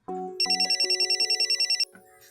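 A telephone rings in a domestic drama scene: a short electronic ringtone with a rapid trill of about a dozen pulses lasting under two seconds, loud and close, with no talk.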